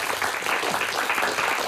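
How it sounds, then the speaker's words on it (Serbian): A studio audience on a Serbian talk show applauds to welcome a guest: dense, steady clapping that fills the whole stretch at an even level. "Aplauz za dobrodošlicu."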